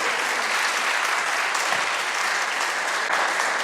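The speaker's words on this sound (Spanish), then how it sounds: "Un fuerte voto de aplausos, por favor, para su eminencia Pedro Barreto." A conference audience gives Cardinal Pedro Barreto a strong round of applause, a dense, even wash of many hands clapping loudly and continuously with no pauses.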